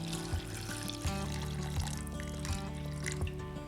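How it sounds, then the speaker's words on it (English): A cup of water poured into a pan of potato curry with hand-broken boiled potatoes, a steady splashing pour with a low repeating thud underneath, close and moderately loud, no talk. "Adding to this another cup of water"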